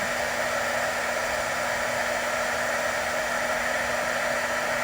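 An embossing heat gun blows hot air to melt embossing powder on a handmade card, a constant loud rushing airflow with a faint steady hum underneath and no breaks throughout.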